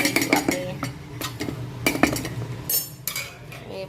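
Uttapam batter with chopped onion being stirred in a bowl, a spoon clinking and scraping against the sides in quick irregular strokes, close and fairly loud with no talking.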